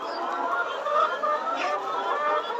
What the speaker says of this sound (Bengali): আমাদের ফার্মে হিউজ পরিমাণ ডিমের মুরগি আছে